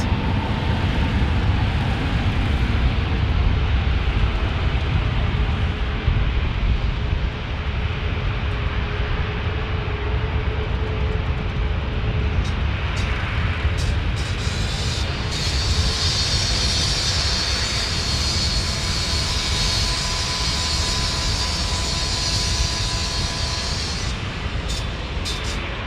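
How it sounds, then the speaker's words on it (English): Alaska Airlines Boeing 737 Max 8 jet roaring past, a loud, broad, sustained engine rush that swells and slowly fades, with no talk. "the Max 8 going to Hawaii for Alaska Airlines is next."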